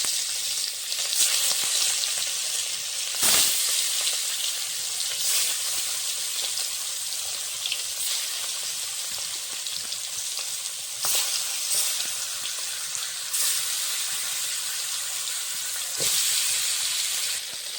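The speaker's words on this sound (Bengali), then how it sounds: "কড়াতে মাছ ভাজার জন্য সর্ষের তেল দিয়ে দিয়েছি" Rohu fish pieces fry in hot mustard oil in a kadai, a loud continuous crackling sizzle broken by several sharp scrapes and knocks of stirring throughout.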